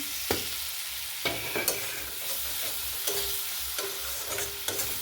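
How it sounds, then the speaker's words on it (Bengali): Spice paste of cumin powder and garam masala cooking down with a little water and salt in a pan, a soft continuous sizzle with several sharp spatula scrapes and taps spaced through it, no talking. "এটা একটু জল দিয়ে কষে নেবো"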